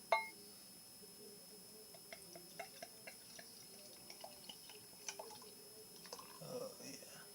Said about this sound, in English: let's go on ahead and get this pale ale poured